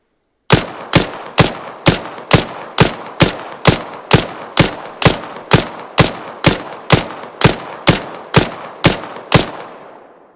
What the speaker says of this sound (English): Fire 20 rounds.